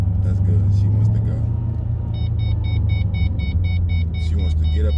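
A 2005 Ford Mustang GT with a Bama tune drives along, its engine droning in a steady, loud low rumble from inside the car, with a repeating electronic beep chiming over it.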